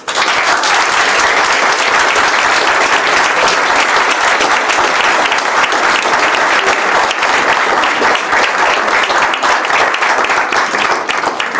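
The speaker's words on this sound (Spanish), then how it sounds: "Un aplauso." Dense, sustained audience applause fills the room at a loud, steady level from start to finish, with no break in the clapping.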